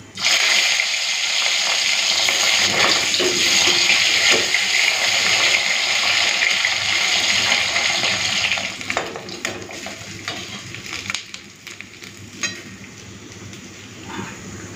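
Hilsa fish tail pieces hit hot oil in a pan, setting off a loud, steady, close sizzle and bubbling that fades and turns more uneven toward the end, with no talking.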